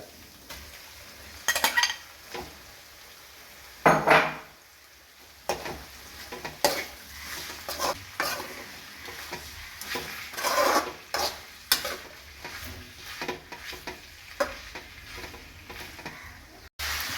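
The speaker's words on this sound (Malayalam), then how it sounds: "നല്ലതുപോലെ ഇളക്കി യോജിപ്പിക്കുക" Cooked beef with pepper powder is stirred in a pan, giving a soft, continuous sizzle broken by irregular scrapes and clinks of a spoon against the metal.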